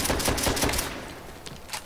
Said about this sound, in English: It takes a lot of bullets from this gun to kill a zombie.